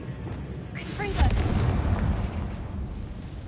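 A Confringo fire spell explosion in Hogwarts Legacy aimed at a big spider, a booming burst swelling after about a second over low rumbling game noise.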